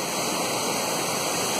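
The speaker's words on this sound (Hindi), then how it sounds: "ये शानदार झरना" Waterfall on the Kedarnath trekking route, a broad, loud, continuous rush of falling water with no breaks and no voices.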